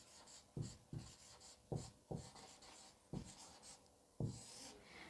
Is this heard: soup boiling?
no